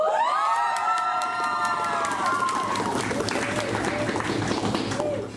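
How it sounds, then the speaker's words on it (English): An election meeting audience cheers and shouts, loud whoops and voices rising at the start and then settling into mixed crowd noise with clapping and chatter. "I just want to hear your guys cheer and see what it sounds like."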